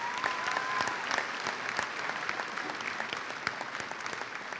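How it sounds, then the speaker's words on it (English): Audience at a high school graduation ceremony applauding steadily in a large space, a dense sustained wash of clapping from many hands, moderately distant. "Please give them a round of applause also."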